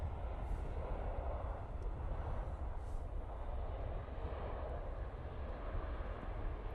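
Embraer E190 airliner taking off at Manchester Airport, a distant, faint, steady engine rumble with low roar sustained throughout.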